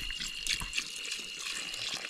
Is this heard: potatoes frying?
no